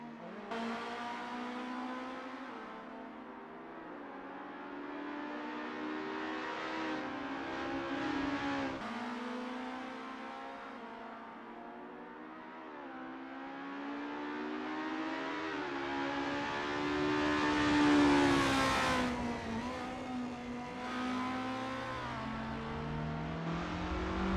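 Estonia-25 race cars from a video game lap a practice session at Lake Garnett 1963. The engines drone steadily and loudly, their pitch climbing and sagging with revving and gear changes, with no voices over them.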